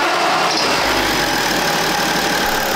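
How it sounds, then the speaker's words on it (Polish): A BMW E46 diesel engine, after its injectors were cleaned, runs at a steady idle nearby: a continuous, even rumble with a dense broadband hiss and no voices over it. "udało się auto odpalić bez problemu"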